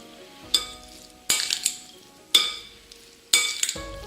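Seasoned sushi rice is stirred in four sharp, evenly spaced strokes, each a scrape with a light clink of utensil against the bowl and quiet pauses between.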